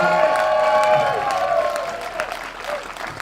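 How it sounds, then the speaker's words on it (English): At Professor Abraham Adzenyah's retirement ceremony, the audience gives a big round of applause with some cheering and a sustained vocal call, loud at first and gradually fading. "One big round of applause for Professor Abraham Adzenyah, please."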